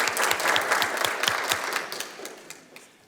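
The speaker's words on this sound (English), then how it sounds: "So another round of applause." An audience at a Relay for Life kickoff event at a city hall claps in a short burst of applause that fades out over a few seconds.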